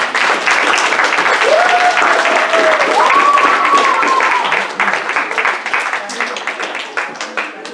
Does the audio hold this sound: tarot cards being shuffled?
no